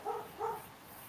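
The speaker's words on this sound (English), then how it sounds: "sorry, that's my dog" A pet dog named Max barks indoors, two quick faint woofs in succession, distant and muffled, with no talk over them.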